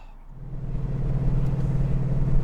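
A Lancia Flavia's engine catching and settling into a low, throbbing idle, the close rumble building slightly over a few seconds with no talk.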